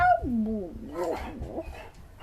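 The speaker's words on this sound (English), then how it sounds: "can hear those puppy dogs." Small puppies whimper and yip in high, sliding whines, close by, with a few soft voiced sounds mixed in.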